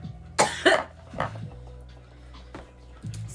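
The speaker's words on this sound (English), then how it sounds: "So much for not coughing." Harsh, close coughing after smoking cannabis, a couple of strong bursts followed by smaller coughs and quieter rasping breaths, heard alone with little speech.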